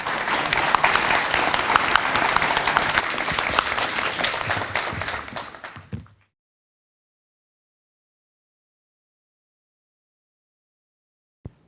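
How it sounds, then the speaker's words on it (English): Audience applause at an annual policy forum, dense sustained clapping from a crowd that fades out around six seconds, followed by near silence and a single brief knock at the end. "Let's give a round of applause to all of our contributors"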